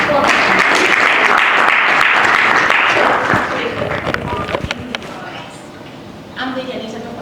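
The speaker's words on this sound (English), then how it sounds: "Let's give a round of applause." An audience at a philanthropy awards summit applauds loudly for about three seconds before the clapping thins to scattered claps and fades, with a voice speaking near the end.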